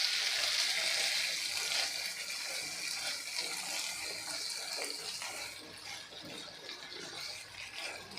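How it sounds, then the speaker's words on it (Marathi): Water is splashed over a brinjal (eggplant) curry cooking in a pan, a Maharashtrian vangyachi bhaji made with karale chutney. A steady, close broadband hiss and sizzle lasts the whole stretch and thins slightly toward the end. "पुन्हा आपल्याला यावरती थोडासा पाण्याचा हबका मारून घ्यायचा आहे आणि मिक्स करून घ्यायचं आहे"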